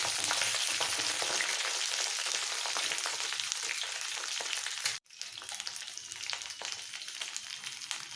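Jujubes (kul) fry in a pan, giving a dense, continuous close sizzle with a brief dropout midway before the hiss resumes, stirring faintly audible beneath.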